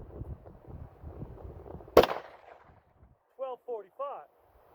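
A single loud, sharp gunshot from American Gunner ammunition cracks out at a shooting range. Brief, close voices follow it.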